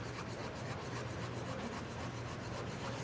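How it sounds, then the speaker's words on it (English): A knife saws back and forth through rolled parsley on a board, a close, continuous rasping rub with a steady rhythm. "If you see the way I'm using this knife, I'm sawing it"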